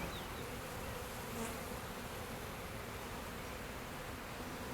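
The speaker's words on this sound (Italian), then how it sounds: "Questa è un'ape che sta nascendo," A newly emerging honeybee buzzes after chewing through the wax capping of its cell in a hive, a faint, steady hum under a constant hissy background.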